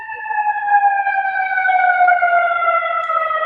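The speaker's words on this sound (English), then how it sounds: "There's an ambulance going by." A loud ambulance siren passes close by outdoors, its steady tone sliding slowly lower as the vehicle moves away, with faint street noise beneath.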